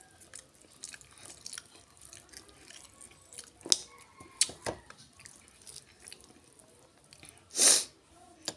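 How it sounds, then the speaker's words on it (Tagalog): One sharp, loud sneeze from a person with a nasal allergy bursts out near the end, after quiet scattered clicks and soft chewing-like sounds. "Hatsing ako ng hatsing."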